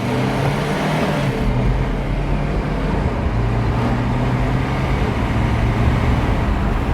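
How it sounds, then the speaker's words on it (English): A BMW X4 with a 2-liter turbo diesel engine produces a continuous rumbling drone with a broad whooshing hiss, heard from inside the car at a steady loud level with no talking. "The turbo sound is immense again."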